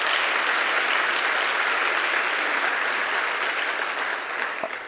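Sustained applause from a church congregation fills the room, a dense steady wash of many hands clapping throughout with no speech over it.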